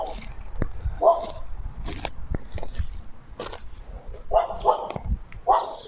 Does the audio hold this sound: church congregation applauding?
no